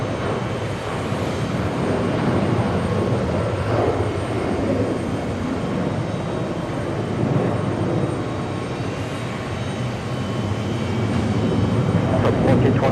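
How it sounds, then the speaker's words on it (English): A Lufthansa four-engine airliner at JFK airport gives off a steady, loud broadband jet roar that holds throughout, with a voice talking faintly under the noise. "It's our second Frankfurt Lufthansa quadjet."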